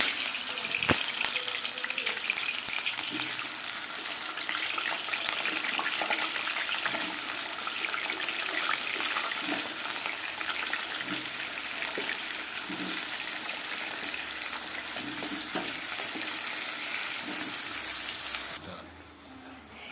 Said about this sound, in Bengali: তেল আর জল পড়ার কারণে একেবারে ছটপট ছটপট করছে